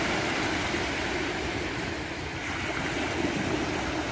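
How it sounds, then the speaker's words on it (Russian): Sea surf heard from inside a hotel room in Sharjah, a steady, dense wash of breaking waves with no distinct individual crashes, continuous and moderately loud without any voices. "этот шум прибоя у нас в номере слышно прямо с постели."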